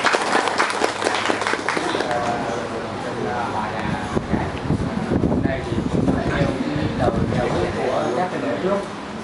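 Wedding guests at a couple's wedding applauding, a dense, steady wash of crowd clapping mixed with voices and talk throughout.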